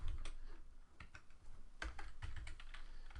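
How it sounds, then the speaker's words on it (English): Typing on a computer keyboard runs through the whole stretch, with clusters of close, clicky keystrokes at an uneven pace and brief gaps between bursts, with no voice heard. "So I'm just going to type in hello world."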